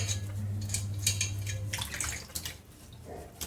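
Pieces of elephant foot yam (suran) are rinsed in a bowl of water, giving close splashing, sloshing and dripping sounds in irregular bursts at a moderate level.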